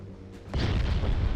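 Naval 4-inch gun shells firing in a Shipyard Champions warship game: a dense burst of booming reports rolling in at once after a quiet lead-in, heavy and low, with no talk.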